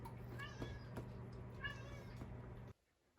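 A cat meows repeatedly up close, several whiny drawn-out cries in quick succession, ending suddenly in near silence.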